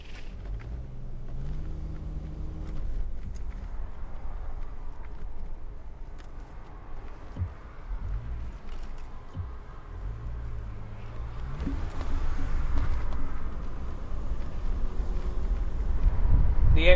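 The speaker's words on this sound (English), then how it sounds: "today you are driving Great Escape Hire's classic Jaguar V12 convertible" A classic Jaguar XJS V12 convertible on the road: a steady low engine drone and road rumble mixed with wind buffeting, rising toward the end as the car gathers speed.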